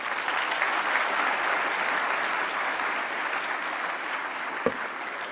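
A large conference crowd gives loud, sustained applause for Indian minister Nitin Gadkari, a thick continuous roar of clapping with a single sharp knock near the end.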